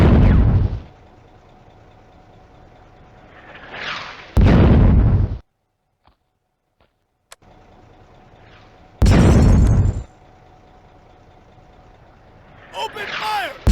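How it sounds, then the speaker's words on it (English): Mortar rounds bursting in a WWII-era video game battle for a bridgehead at Remilly, France, May 1940: several loud, heavy blasts spaced seconds apart, with a silent gap between and smaller scattered impacts toward the end. "The mortar rounds land effectively."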